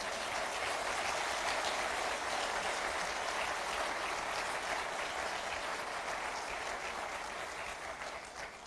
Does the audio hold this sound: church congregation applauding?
yes